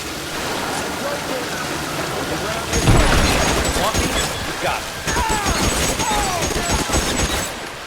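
Scattered gunfire crackles through an L.A. Noire war scene, with irregular shots and bursts over a noisy, rain-like background, while someone talks excitedly throughout.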